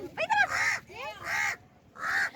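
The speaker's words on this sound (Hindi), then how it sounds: "और ये कौवा भी हमारे साथ पिकनिक मनाने आया है जी।" Crow cawing outdoors at a picnic in Citi Housing, Faisalabad, with three loud, close, harsh calls in a row, separated by short pauses.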